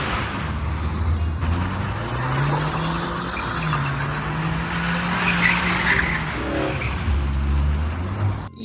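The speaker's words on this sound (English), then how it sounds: "I used to think this car was the coolest car in the world that could do everything, including donuts, such as this." A Mercedes C-Class attempts donuts on worn tires, the engine droning in low rising and falling sweeps while the tires skid and squeal continuously for several seconds, close and fairly loud with no speech.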